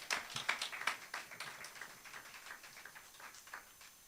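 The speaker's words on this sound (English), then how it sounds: "Give him a round of applause." A church audience breaking into applause, a burst of crisp claps near the start that thins into a scattered, softer patter over several seconds.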